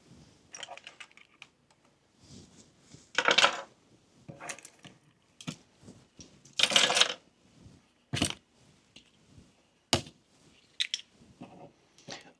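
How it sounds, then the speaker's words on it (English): Old white plastic hooks are pried off a cabinet inside an RV camper, giving a string of sharp clicks and snaps with irregular gaps between them, close and fairly loud over a quiet room. "first I need to get the old white hooks off"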